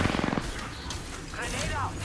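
A rapid burst of video game gunfire opens the moment, a quick run of close shots, then fades into a busy wash of game noise and faint voices.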